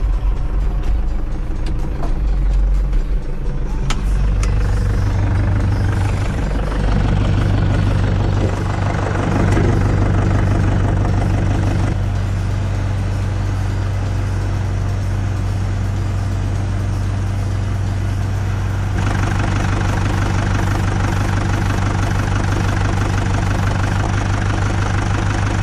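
A Zetor tractor engine idles steadily and loud up close, a deep continuous rumble with a faint knocking rhythm that holds throughout without any talk.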